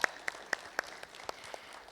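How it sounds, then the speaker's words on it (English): Scattered, sparse claps from a small conference audience at a cybersecurity summit keynote, coming as a handful of distinct, fairly faint hand claps spaced roughly a quarter second apart. "A round of applause"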